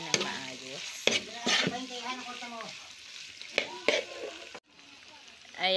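Sisig mixed with liver spread is stirred in a pan, making close, wet scraping and clicking strokes over a soft sizzle, with a voice talking throughout.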